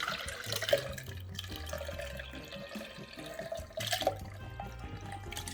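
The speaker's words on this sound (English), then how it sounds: "Pour the liquid off into a pot and put the meat back in the oven uncovered." Liquid from oven-cooked Jamaican jerk pork chops being poured off into a pot, a steady moderate trickle and splash with soft music running underneath.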